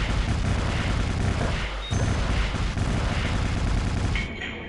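Rocket launcher fire in the video game Kitten Squad: a dense, continuous barrage of loud booming blasts and explosions, near and heavy, with a brief dip midway and a tapering tail at the end.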